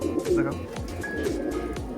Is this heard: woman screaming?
no